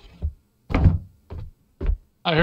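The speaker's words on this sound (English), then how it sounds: "That was a door, Sean." A door in the horror game Labyrinthine gives a series of dull knocks and thuds, four or five separate close impacts spaced irregularly with short silences between them.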